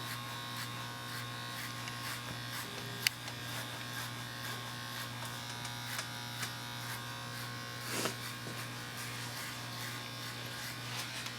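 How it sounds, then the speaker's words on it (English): Andis Speedmaster electric hair clippers run at a steady close buzz while cutting a low fade on dirty blonde hair, the hum constant throughout with small clicks and brief louder touches, no talking. "This haircut I got a number 3 on the clipper, closed."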